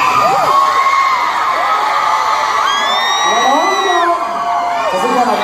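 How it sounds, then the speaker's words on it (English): A large concert audience screams and cheers loudly and steadily, with high shrieks and whoops rising over the roar of the crowd at a show in Atlanta. "I'm inviting you to scream at the top of your lungs."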